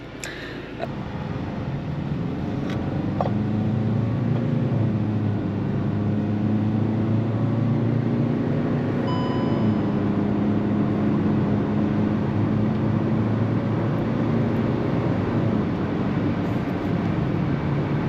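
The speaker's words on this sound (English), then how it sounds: "you can hear that sweet sound of the engine revving as it picks up RPM" Steady engine drone from inside a moving Kia Sonet, holding a constant loud level throughout with a low rumble and faint rising tones as it gains speed and RPM.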